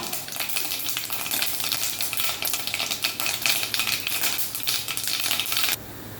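Grated coconut roasts over a low flame for Kerala kootu curry, giving a continuous crackling sizzle broken by quick rhythmic scrapes of a stirring spoon, close and steady until it cuts off near the end.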